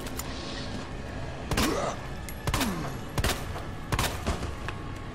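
Gunshots ring out in Resident Evil 2 as about five loud, sharp handgun reports at irregular intervals, each with a short ringing tail, over a low game ambience.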